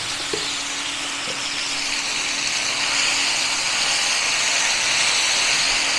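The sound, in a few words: frying taro with ginger-garlic paste in a pan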